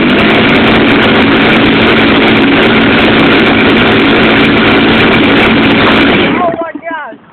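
Soda bottle water rocket on a PVC pipe launcher pressurized by an air compressor, a loud, steady rushing roar that holds for several seconds and then cuts off abruptly, leaving brief faint voices.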